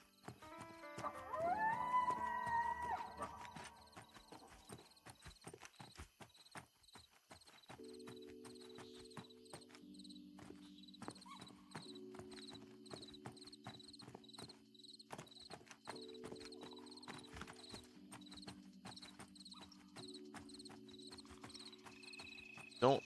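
Horses in the video game Pantheon: Rise of the Fallen give off steady clip-clop hoof sounds with occasional neighs, set against looping in-game music and ambient effects, heard in the background rather than up close.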